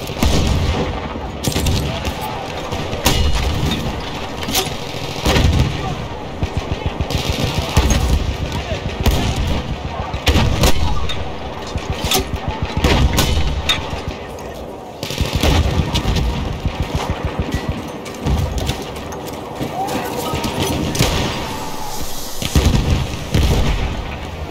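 Battlefield 1 combat: a continuous din of close gunfire bursts and explosions, with repeated rapid cracks and heavy booms layered over one another throughout.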